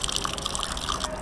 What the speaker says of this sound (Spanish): ¡Uy, a mí me gusta bañarme con el agua llovida!